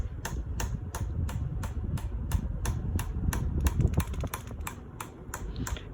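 Hunter Summer Breeze ceiling fan running on high, a low whooshing hum overlaid with a regular rapid ticking or clicking that repeats evenly throughout, fairly quiet and close.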